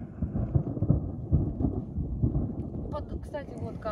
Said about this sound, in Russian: Зато гремит чуть-чуть.